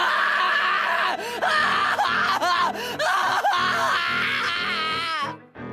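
Anguished screaming from the visual novel Higurashi: Watanagashi, a loud, continuous wailing voice that rises and falls in pitch for several seconds before cutting off abruptly.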